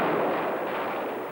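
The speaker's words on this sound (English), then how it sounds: "Cannon guns blast Red troops moving up for the attack on Daegu." Cannon guns fire in Korean War archive film, a loud, sustained blast of broadband roar that fades slightly over its short length, with no talk.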